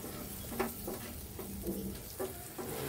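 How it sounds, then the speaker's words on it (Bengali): Spices for a brain curry (ghilu bhuna) fry with a soft, steady sizzle while a spoon scrapes through them in slow, evenly spaced strokes, close but fairly quiet. "এই পর্যায়ে সবগুলো উপকরণ খুব ভালোভাবে নেড়ে মিশিয়ে ভেজে নিতে হবে।"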